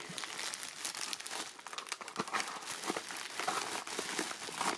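Plastic packaging crinkles and rustles up close as a silicone reborn doll is unboxed, a continuous soft crackling with sharper crunches throughout and no voices.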